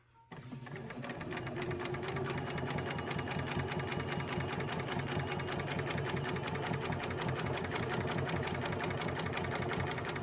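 A sewing machine stitches a fabric Easter pocket, starting after a brief pause and then running at a fast, even, rhythmic chatter. The sound is close, steady and continuous for about ten seconds.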